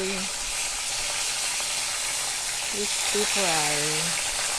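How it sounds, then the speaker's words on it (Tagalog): Hiwas fish frying in hot oil until crispy gives a loud, steady sizzling hiss throughout, with a person's voice briefly heard near the end. "Mga mamshi, magpiprito tayo ng hiwas."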